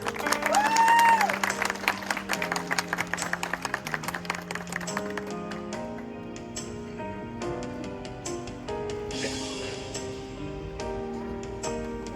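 Wedding guests clap and cheer after the vows, a burst of crowd applause mixing with music, with people talking and the clapping fading into a softer background.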